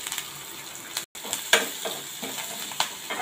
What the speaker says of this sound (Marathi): तेल तापलं असेल तर आलं लसूण थोडी परतून घेऊया तेलामध्ये.